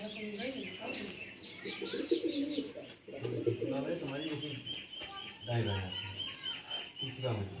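Pigeons of the Murshidabadi Giribaz and Chocolate Dum breeds coo in repeated low, rolling bursts close by, with occasional chirps above and a person's voice talking in between.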